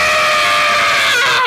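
A voice imitates Roger Daltrey's legendary rock scream, a loud, sustained, strained wail held for over a second before it cracks and breaks off.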